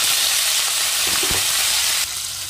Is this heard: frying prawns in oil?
yes